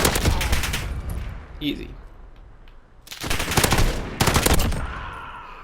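FAL rifle firing in Modern Warfare, loud rapid bursts of gunshots in clusters separated by brief pauses, with a player talking briefly in between.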